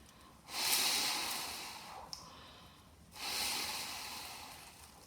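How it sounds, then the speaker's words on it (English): Slow, deliberate breaths drawn through the small hole of a homemade mouthpiece, two long breathy rushes separated by a pause, close and fairly soft with no talking. "I'm going to pop it to my mouth and breathe slowly through the hole like this."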